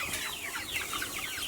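Farm chickens cluck in a busy overlapping chorus while their feed containers are being filled, close and steady throughout the short moment.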